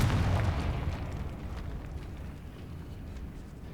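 A Confringo blasting spell explodes in Hogwarts Legacy, a loud, close, deep boom that rolls into a long fading rumble with no other sound over it.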